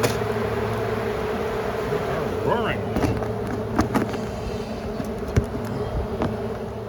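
Bees drone and buzz around an opened hive after foam has been cut away, a continuous close hum with a few sharp knocks and handling noises, and a voice speaking briefly.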